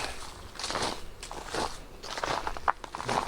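Footsteps crunch on hard-frozen ground in a deep woodland cutting at minus three degrees, a steady series of close, crisp crackling steps with a few sharper snaps.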